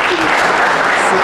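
An audience at a sports talent awards gala breaks into loud, dense applause, a brief continuous burst of clapping close and full with faint voices under it.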